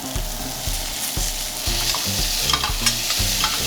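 Cauliflower steak frying in butter in a pan, a loud continuous sizzle close up with rhythmic low bumps from stirring or basting.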